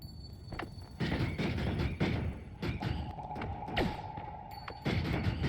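Spell explosions in the video game Noita go off in a rapid series, several deep booming thumps with rumbling tails, close and loud, spaced irregularly across the stretch.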